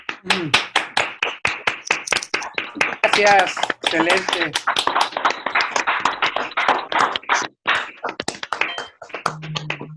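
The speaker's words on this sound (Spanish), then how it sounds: "abran sus micrófonos y le brindemos un aplauso" An online audience claps through open microphones after a talk, a quick run of sharp, uneven hand claps and taps close to the mic, while a voice speaks briefly over them.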